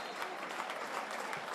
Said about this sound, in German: Rhythmisches Klatschen der Zuschauer.